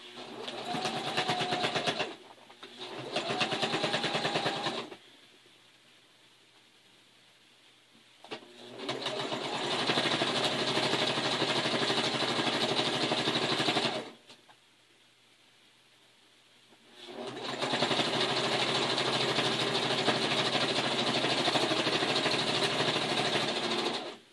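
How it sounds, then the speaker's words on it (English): A sewing machine stitching strips together for a log cabin quilt, loud close whirring runs in several bursts of differing length with quiet pauses between them. "So we're going to sew a strip on as well as we are sewing these together."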